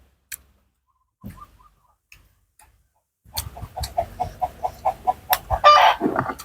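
Chickens cluck in a quick rhythmic series of short clucks close by, preceded by a few scattered faint taps and ending in a louder flurry.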